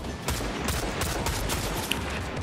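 Gunfire in Fortnite from enemies shooting, rapid overlapping bursts of shots forming a continuous loud barrage with a few sharper cracks standing out.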